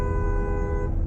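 A car horn honks in a single sustained, loud, steady tone lasting about a second, close by in stalled traffic at a green light while driving a Tesla.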